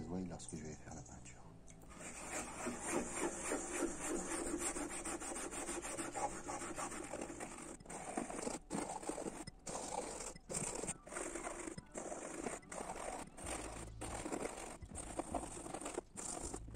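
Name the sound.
toothbrush scrubbing glue off car headliner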